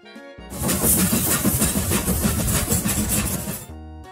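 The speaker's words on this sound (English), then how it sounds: "What sound does a train make?" A loud train sound rumbles in abruptly, holds a dense, rhythmic chugging roar for about three seconds, then cuts off, heard alone.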